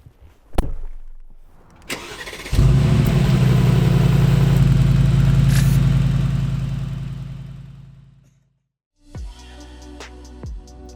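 A 2020 Mercedes-Benz G63 AMG fires up with a starter crank and a loud roaring flare, settles into a deep rumbling idle for several seconds, dies away, then rumbles back to life as it moves off.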